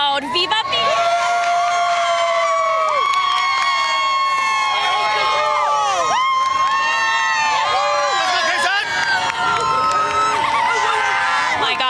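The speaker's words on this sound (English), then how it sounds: "My gosh, y'all, this crowd is wild." A wild street parade crowd cheers and shouts loudly and continuously, with children's shrieks, whoops and overlapping voices packed close together throughout.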